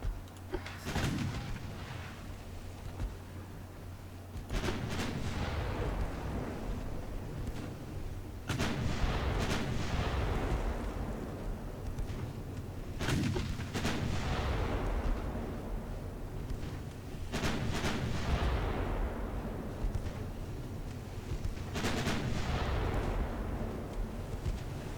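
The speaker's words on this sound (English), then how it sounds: "Let's start firing main guns." Warship main guns booming in the naval game Ultimate Admiral Dreadnoughts, six heavy blasts spaced a few seconds apart, each with a long rumbling decay, over a steady low ambient hum.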